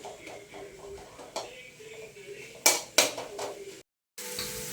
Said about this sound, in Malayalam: ഒരു മട്ടിപ്പോണം നമ്മൾ മസാല ഒക്കെ നന്നായിട്ട് മിക്സ് ചെയ്യാം